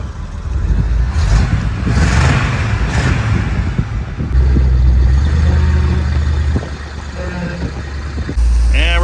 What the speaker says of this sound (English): Meanwhile, I'm trying to do a burnout with the Tater.